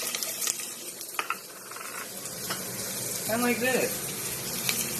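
Garlic and onions sauté in cooking oil, giving a steady close sizzle with a few scrapes of stirring. A voice talks over the cooking throughout.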